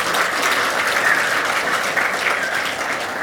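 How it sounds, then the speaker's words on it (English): An audience at a medical conference in a convention centre claps in a dense, steady burst of applause that stays loud throughout, with no voices on top. "I'm sure that wasn't just the AMSA contingent who just made that clap then."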